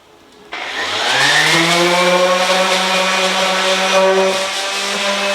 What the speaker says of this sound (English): And this is the final sand